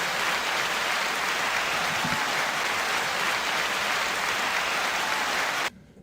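Studio audience on a rap media talk show gives sustained applause, a dense even wash of clapping that holds steady and then cuts off abruptly just before the end.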